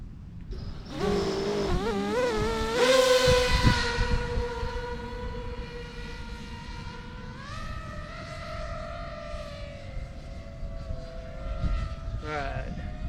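An FPV racing quadcopter on 5.2x6 propellers, recorded on board, gives a loud, steady motor whine. Its pitch swells and shifts with throttle changes, over constant wind rush.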